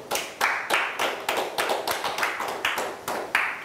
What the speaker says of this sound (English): Somebody give God a hand clap of praise.